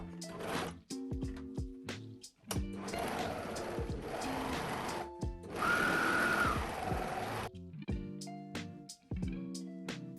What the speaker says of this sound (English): We're also gonna finish the raw edges of the fabric with an overlock or a zigzag stitch.